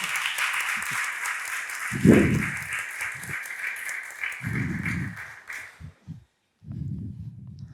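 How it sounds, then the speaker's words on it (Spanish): Applause at a medical conference carries as a steady hiss of many hands for several seconds, then stops, leaving scattered low thumps and rustling. "Por favor, Elizabeth, un aplauso"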